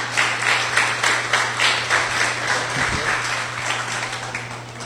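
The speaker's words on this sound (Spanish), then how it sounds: "recibamos al pastor Víctor con un fuerte aplauso y a su familia" A church congregation claps to welcome the pastor and his family, a sustained, lively round of applause with individual claps pulsing through it, set against a faint electrical hum.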